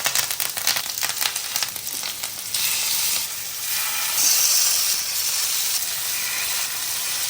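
Curry leaves dropped into hot coconut oil with ginger and garlic in a pan on a boat, an initial crackling spatter settling into a close, steady hissing sizzle.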